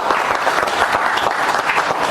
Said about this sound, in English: Give Jacob a round of applause.